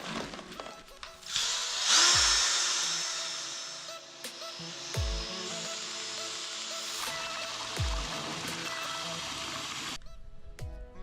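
Power drill stirring body kit filler compound in a bowl, a whirring motor rising and easing in several bursts with the paddle knocking and scraping the bowl, close and fairly loud, with no talking.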